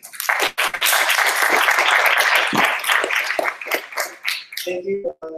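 Warm round of applause from a meetup crowd welcoming a speaker to a tech talk, a dense burst of clapping that thins and fades toward the end as a voice begins.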